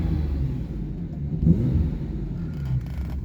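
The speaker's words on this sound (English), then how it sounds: "I'll give it a quick rev so you can see what it sounds like." A Jaguar XJS V12 with straight-pipe exhaust revving once from idle, a loud, deep, rumbling roar that swells and then settles back, heard close and with no voices.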